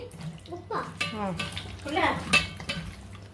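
Brief wet stirring and squelching of chicken being mixed with chilli powder, lemon and salt in a bowl, a few short scraping strokes close up, with a voice speaking over it.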